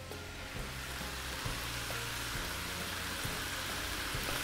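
Garlic, onion and shiitake sauté in a hot pan, a steady crackling sizzle holding at an even level throughout, with no talking.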